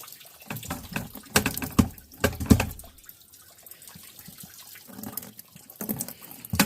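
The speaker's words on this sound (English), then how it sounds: "Rinse the lid. Rub the grit off the edge." Water from a garden hose splashing over a rock tumbler lid outdoors while grit is rubbed off its edge, uneven gushing and dripping in bursts, close and moderate.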